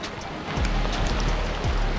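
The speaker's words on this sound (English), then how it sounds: "So it is a complete downpour." Heavy rain downpour outdoors during a walk home, a steady dense hiss of rain on surfaces, fairly close and unbroken, with no talk.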